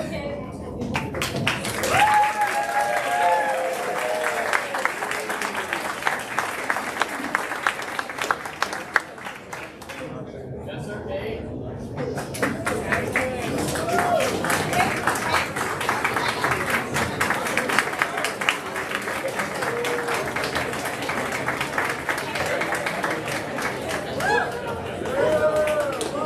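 Crowd applause at a senior awards ceremony, a steady rush of clapping and chatter from a large audience that swells and fades, with an announcer's voice carrying over it.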